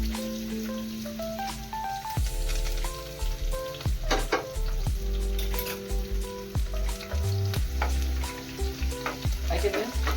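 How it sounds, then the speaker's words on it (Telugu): Onions and chillies fry in a pan for an ivy gourd curry, a constant close sizzle broken by repeated stirring scrapes and clanks of a utensil against the pan, with no talking. "ఇప్పుడు మనం ఇవైతే వేసేసుకున్నాం,"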